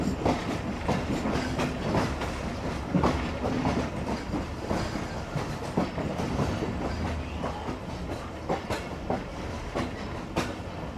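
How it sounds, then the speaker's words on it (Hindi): A passing train at Rohri Junction at night gives a steady, dense rumble with rapid clickety-clack wheel beats, continuous and fairly close, with no voices. "ये देख सकते हैं आपके डाउन में भी एक अदर ट्रेन आ रही है कोई।"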